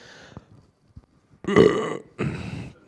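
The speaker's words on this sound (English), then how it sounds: "for some reason when I talk, I have to burp" Two deep, drawn-out burps from a person, loud and close, following faint breathy sounds and a couple of soft clicks.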